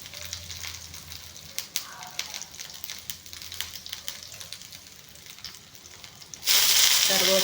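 Crushed garlic sizzles gently in a small amount of oil with soft crackles and pops, then the frying swells to a loud, bright hiss near the end, close to the pan.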